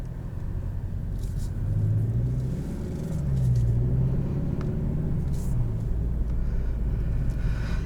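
A 2021 Kia K5 GT car drives along, heard from inside the cabin as a steady low engine and road rumble. The engine note swells and eases as the car accelerates, and no voices are heard.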